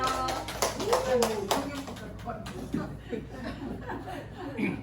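A small audience claps in scattered bursts at a business talk, loud at first and then thinning into sparse taps mixed with chuckles and murmuring voices.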